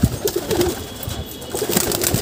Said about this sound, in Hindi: यहाँ पे गुलाब सिरा कबूतर बैठा है